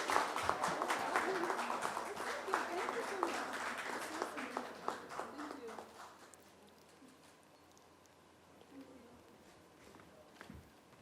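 Crowd at a fan meet-and-greet applauding for several seconds, the clapping loud at first and then thinning out, with voices talking over it.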